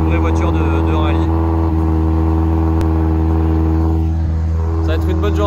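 A Peugeot 208 R2 rally car, 185 horsepower and 1050 kg, runs its engine with a steady mid-pitched drone that rises and falls slightly, close and loud throughout.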